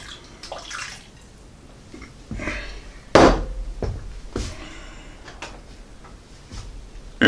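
About a cup of water is poured into a pan around meat with potatoes, onion and carrots, giving short splashing pours and clinks of cookware, close and intermittent with quiet gaps between.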